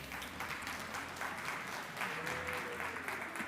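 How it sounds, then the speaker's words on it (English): An audience applauds the panelists at a future-of-work dialogue, a continuous, fairly distant patter of many hands clapping at moderate level with low room hum beneath. "Round of applause for our panelists."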